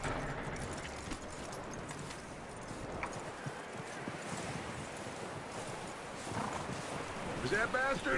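Horse hooves clip-clop steadily on the ground in the video game Red Dead Redemption 2, a continuous rhythmic trot under ambient sound with occasional voices.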